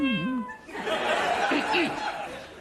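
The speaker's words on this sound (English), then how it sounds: "Look, got to take these kittens away." A kitten meows in a radio comedy sketch, repeated high mewing calls starting off alone, then continuing under a burst of talk and laughter-like voices.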